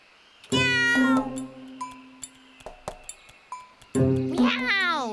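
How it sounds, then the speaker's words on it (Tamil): Cartoon cat in a Tamil comedy animation gives two drawn-out, wavering meows, one near the start and one near the end, with light clinks and pings scattered between them. "மியாவ்"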